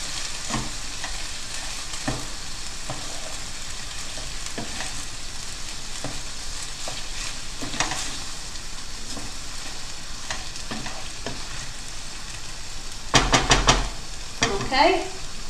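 A stir-fry sizzles steadily in a hot pan as the vegetables and sauce are stirred. The spatula makes repeated scraping strokes, and near the end there is a brief burst of louder clatter.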